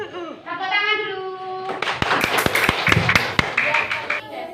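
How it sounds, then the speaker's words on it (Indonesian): A classroom of students claps their hands in a quick burst of sharp, close claps that follow a short spoken voice. "Tepuk tangan dulu."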